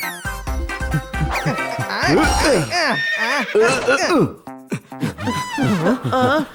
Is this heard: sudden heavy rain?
no